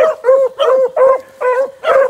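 A dog gives six evenly spaced sharp barks in a steady rhythm, close and loud, with no talking over them.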